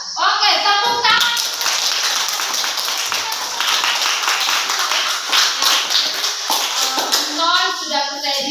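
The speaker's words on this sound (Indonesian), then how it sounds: "Oke, tepuk tangan." A classroom of students breaks into dense, lively clapping that lasts several seconds, with voices speaking briefly before it starts and again as it fades.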